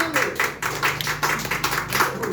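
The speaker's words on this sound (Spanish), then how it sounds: "Muy bien, a ver, un aplauso, cuidado." A church congregation claps together in a quick, rhythmic patter that stays moderately loud and continuous for a couple of seconds, with a low murmur of voices underneath.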